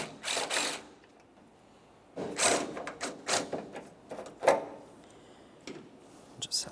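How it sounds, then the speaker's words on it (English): Ratchet clicks in short bursts as the two mounting bolts come off a tailgate latch on a 2004-2008 Ford F-150, close up, with quiet pauses between turns. "Now we'll start removing each of our two mounting bolts."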